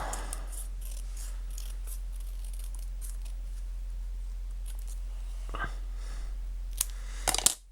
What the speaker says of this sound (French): Je vais recouper mon texte parce que je crois que s'il est un peu large en bas